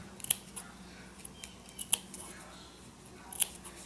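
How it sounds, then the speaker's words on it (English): Scissors snip fabric for crumb block quilting, with three or four sharp, crisp cuts spaced a second or so apart. The snips are close but quiet, and faint soft handling noises sit between them. "I'm snipping."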